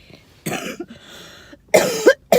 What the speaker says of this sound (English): I'm coughing a little bit because the air quality out here really stinks